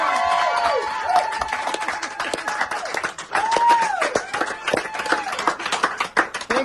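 Hostage families clapping and cheering, sharp overlapping claps in a lively burst from a crowd, mixed with excited voices, whoops and rising shouts, close and loud throughout.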